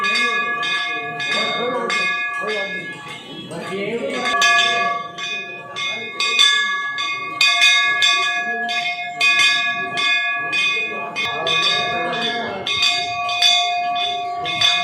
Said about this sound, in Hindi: मंदिरों के लिए बनाई सेंसर युक्त घंटी